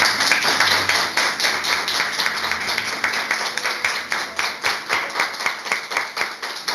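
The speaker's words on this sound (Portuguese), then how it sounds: "Eu queria que a gente fizesse uma salva de palmas para todos nós." A church audience claps together in a dense, rhythmic round of applause, steady and close, with sharp individual hand slaps standing out as the clapping falls into a loose shared beat.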